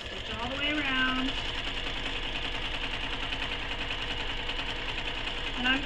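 A sewing machine runs a continuous stitching line around the edge of a sling pack, its steady mechanical chatter holding throughout, with a brief rising tonal whine near the start and again at the end.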